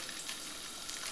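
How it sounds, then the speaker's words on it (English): Salmon fillet frying skin side down in hot oil in a pan, a steady, close, even sizzle and crackle with no voices over it. "let's pop the salmon in, skin side down, because I want the skin to go really nice and crispy"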